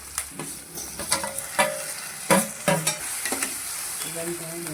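Onions frying in a pan for a capsicum gravy, with a crackling sizzle and sharp scraping stirs of a spatula at irregular intervals, close and fairly loud, with no talk.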